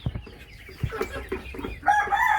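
Chickens cluck close by in a farmyard full of animals, a run of short, uneven clucks that rises into a louder, drawn-out call near the end, with no talking.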